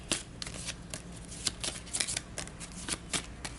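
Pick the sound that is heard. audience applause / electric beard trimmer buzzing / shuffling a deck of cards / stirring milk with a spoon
shuffling a deck of cards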